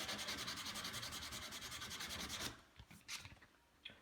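Sandpaper rubbed by hand over a hardwood stair capping makes steady, rhythmic scratchy strokes for a couple of seconds before fading to a few soft, quieter scrapes, close and alone.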